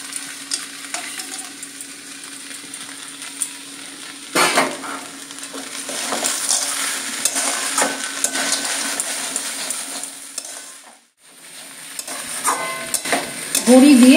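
Fried eggplant and crushed lentil dumplings are stirred in a pan for a vegetable dish made with poppy seed paste and drumstick flowers. Steady sizzling runs under repeated scraping of a spatula against metal, with a short pause near the end.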